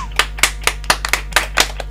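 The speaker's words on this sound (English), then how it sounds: "Golf clap for you, Piet." A short golf clap for a studio guest on a radio show: about ten light, separate hand claps at a relaxed, slightly uneven pace, close and dry over a steady low electrical hum.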